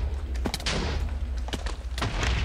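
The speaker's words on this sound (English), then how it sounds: "They're exploding." Explosions in the Minecraft Aether II mod, a few sharp bursts around the middle and end over continuous game noise, with no talk.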